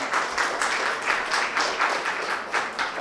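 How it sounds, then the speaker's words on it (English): An audience applauds for event organizers and volunteers, a dense, steady wash of many hands clapping at close range for the full stretch, with no voices on top. "Can we get a round of applause for all the organizers and volunteers that helped?"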